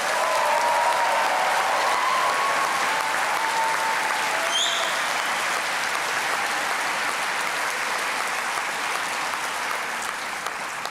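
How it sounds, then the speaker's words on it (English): A large audience applauds the medical school class of 2027 at a white coat ceremony, steady broadband clapping sustained loudly for the full stretch with a brief tone or chirp partway through and no voices. "Now let's have another round of applause for the class of 2027."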